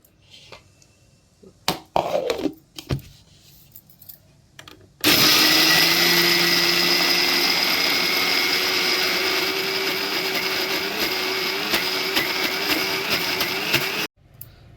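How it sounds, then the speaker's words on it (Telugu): A few clicks and knocks come first, then a kitchen mixer grinder whirs loudly and steadily for about nine seconds as it grinds nine kinds of grains in its jar, stopping abruptly. "ఇలా చక్కగా మిక్సీకి పట్టుకున్నాము మిక్సీ జార్లో వేసాము"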